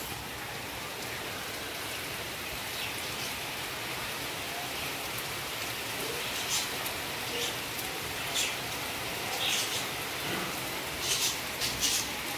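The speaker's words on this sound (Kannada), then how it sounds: "ಮಳೆ ಮಳೆ ಮಳೆ ಇಷ್ಟು ಜೋರು ಮಳೆ" Heavy rain pours down steadily in a dense, even hiss that does not let up, with scattered louder drops pattering on surfaces near the end.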